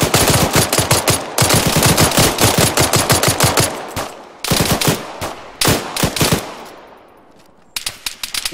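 Rapid bursts of automatic machine gun fire in the military shooter Arma, loud and close, with long sustained strings of shots broken by short pauses and a few separate bursts near the end.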